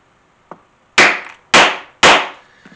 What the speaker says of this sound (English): I normally give these three swift whacks with my mallet.